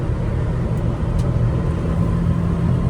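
A Honda Acty mini truck with an 8-speed transmission pulls steadily in 5th gear, its engine a constant, loud, low rumble mixed with road and wind noise throughout.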